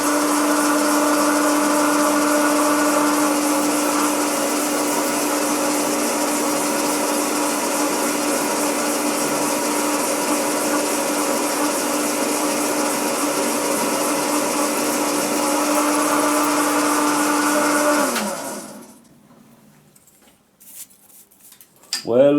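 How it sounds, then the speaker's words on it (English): A Banggood cobalt drill bit spinning in a power drill, a loud sustained whine with a steady tonal hum that runs evenly, then cuts off abruptly, followed by brief clatter at the end. "this cobalt drill bit from Banggood"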